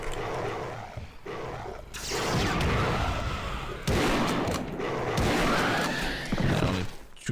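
Gunfire in the 1996 PC game Realms of the Haunting: several loud, sharp shots with booming impacts burst through a dense, noisy game soundscape, spread across the stretch with no speech.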